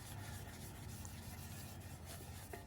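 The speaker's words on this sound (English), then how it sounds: "And we're just gonna sand just a little bit of it like this" Quiet rubbing and scuffing of an abrasive scouring pad sanding a car exhaust pipe, a soft continuous scratchy rasp close by, with no talking.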